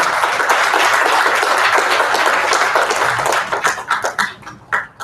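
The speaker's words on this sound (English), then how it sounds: "Let's give them a round of applause." A crowd claps steadily in dense, sustained applause that thins into scattered individual claps near the end.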